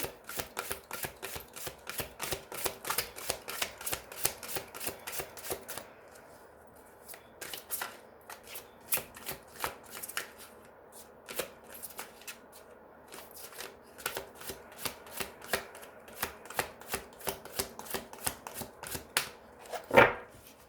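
Healing oracle cards are shuffled over and over for a general reading, a steady run of crisp riffling flutters and slaps, close and continuous with brief pauses and no talking.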